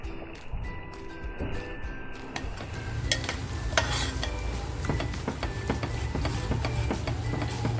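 Surmai fish masala with turmeric being stirred in a pan, a steady run of close scraping and clattering strokes over a low bubbling sizzle, with no talking.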